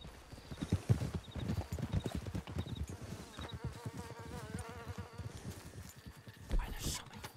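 Flies buzz around a horse in the video game Red Dead Redemption 2, a thin insect drone running under busy clip-clopping hooves and a whinny, with a voice talking over the scene.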